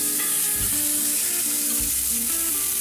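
Pork chops sear in a hot skillet with a steady, loud sizzle, a continuous crackling hiss broken by a couple of low clunks as pieces are shifted in the pan.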